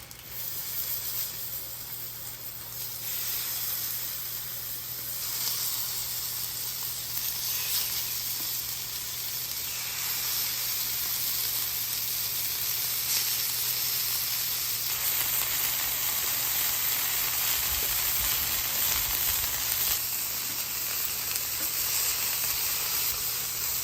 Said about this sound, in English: We're going to be able to sear these steaks off.